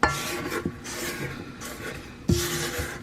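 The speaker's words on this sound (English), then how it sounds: "I'm going to start scraping down the bowl, because that's like a vital thing in baking" A spatula scrapes around the inside of a mixing bowl while baking a strawberry shortcake, giving rasping, rubbing strokes close by, with a firmer scrape near the end.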